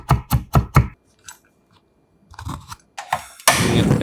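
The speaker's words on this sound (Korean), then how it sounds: "통마늘 2개를 살짝 굵게 다져 팬에 담고" Knife on a cutting board coarsely chopping two whole garlic cloves: four quick close thuds in a row, then a pause, a few scattered softer chops, and a denser burst of cutting at the end.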